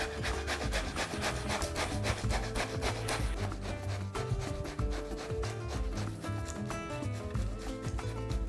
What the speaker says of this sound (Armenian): Վերցնում եմ մեկ մեծ բազուկ, քերում եմ այն մանր անցքերով